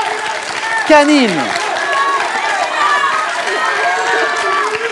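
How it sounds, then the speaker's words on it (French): A quiz show audience claps and cheers for two contestants in a final, a busy crowd roar of applause and shouts under a presenter's excited voice. "vous entendez notre public encourager et applaudir les deux concurrents"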